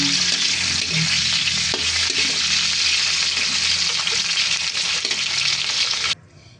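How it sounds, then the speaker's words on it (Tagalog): Green beans and carrots fry together in a pan, a steady loud sizzle with occasional stirring clatter that runs for about six seconds before cutting off abruptly. "Una po muna ipiprito muna natin itong Baguio beans at saka ang carrots."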